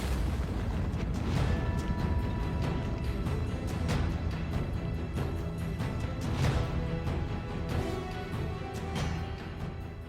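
Distant booms of Iranian missile explosions in Tel Aviv thud at intervals over a constant rumbling roar, muffled and fairly faint.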